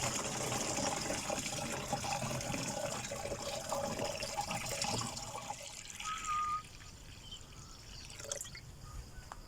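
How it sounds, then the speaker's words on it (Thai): Water is poured and trickles into a container to mix a hormone spray solution for sweet Manila tamarind trees, a soft continuous close pour and dribble that tapers off partway, followed by light drips and quieter handling. "ผสมน้ำลงไปเลยครับ"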